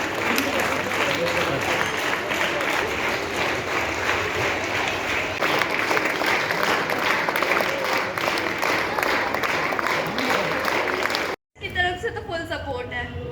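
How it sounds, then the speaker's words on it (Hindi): An audience claps continuously and loudly at a school Children's Day celebration, with cheers and chatter mixed in, before the applause cuts off abruptly and a voice continues. "ताली बजाते रहें।"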